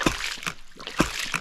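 A DIY ram pump starting up, water splashing and sloshing in short irregular bursts close by, with a couple of stronger splashes about a second apart.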